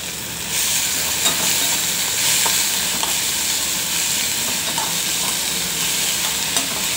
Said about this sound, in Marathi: कांदाही चांगल्या प्रकारे परतून घ्यावा.